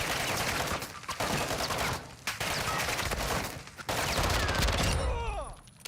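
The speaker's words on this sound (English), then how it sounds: "Fuck are you shooting me, bots?" Rapid automatic gunfire from the video game Call of Duty DMZ rattles in dense, continuous bursts, loud and close, with brief pauses between volleys before fading near the end.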